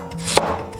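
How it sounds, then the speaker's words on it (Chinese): A knife cuts through kohlrabi on a cutting board, one crisp chop landing alone in a short, quiet moment. "给它切片，"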